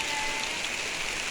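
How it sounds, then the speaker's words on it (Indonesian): Heavy rain falling in a village, a dense, steady hiss of drops on surfaces that stays loud and unbroken from start to end. "di Kampung Simkuring Baraya menuju hujan deras"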